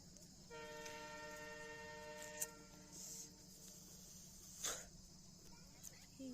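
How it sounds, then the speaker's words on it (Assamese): A train passes beside a hillside in a scenic spot, giving a steady, fairly distant rumble with a sustained horn-like tone early on and a few brief sharp clanks. "ট্ৰেইনখন দেখাই দিওঁ নেকি"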